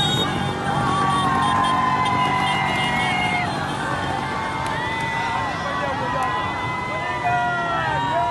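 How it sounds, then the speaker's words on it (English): A Mumbai Indians open-top bus parade after their record fourth IPL title rolls through the city streets, with a dense, loud roar of cheering crowds, horns and sirens, continuous and close throughout. "that is the sound of the Mumbai Indians open-top bus parade through the streets of the city"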